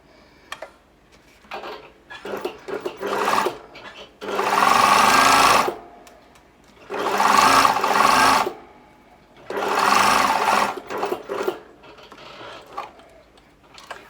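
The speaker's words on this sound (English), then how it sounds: "I'm just going to sew all the way around" A sewing machine stitching a pocket onto fabric in three loud, rapid bursts of mechanical chatter, separated by quieter pauses filled with soft handling ticks and clicks.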